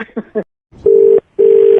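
Two steady telephone dial tones, each lasting about a third of a second, follow a brief burst of muffled sound at the start.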